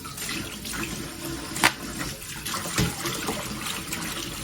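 Tap water runs steadily into a sink while fresh mushrooms are washed by hand, with a soft continuous splash and a few brief knocks and clatters near the mic.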